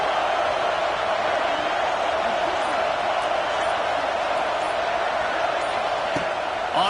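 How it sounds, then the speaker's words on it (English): Stadium crowd at a football game roaring loudly and steadily as a roar that never lets up, with a sharp thump near the end and an announcer talking over it. "Listen to this crowd just shaking the girders of this place"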